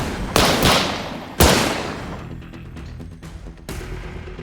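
Suppressive gunfire in the video game The World Well: Blood of Caro: two loud broadband blasts ring out, each followed by a decaying crackle of shots, then a scattered volley of sharper, quieter reports without any voices.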